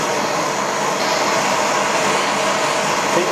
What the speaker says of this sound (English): just use this little torch to get enough heat just to tin them